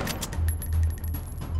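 Rapid gunfire from the VR shooter Arktika.1 crackles in a quick, uneven burst of repeated shots over a low steady hum, fairly quiet and close.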